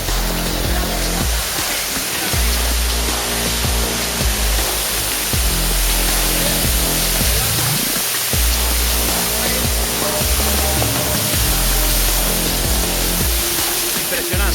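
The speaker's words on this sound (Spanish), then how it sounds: "Una cascada preciosa." The Gualtón waterfall near Toreno pours in a loud, close, unbroken rush of falling water that fills the whole span, with low thuds and gusts breaking through now and then.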